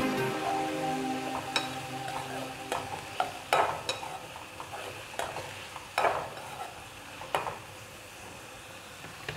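Pumpkin curry being stirred in a pot just after salt goes in, a series of scraping clacks and soft scuffs over a steady low sizzle, close and moderately quiet with no voices.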